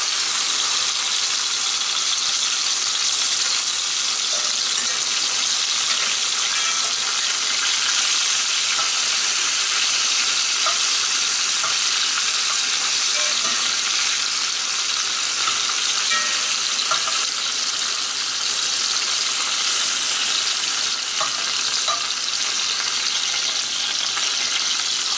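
Squirrel meat browning in a frying pan, a loud, steady sizzle and crackle of hot fat that runs continuously without pause, close up and with no talking.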